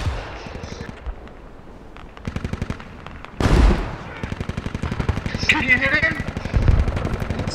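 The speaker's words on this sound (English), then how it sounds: "he's shooting the radio" Rapid machine-gun bursts and single shots crack in the Squad shooter game, set in a forest with Canadian forces, dense and loud throughout, with an excited voice talking over the firing.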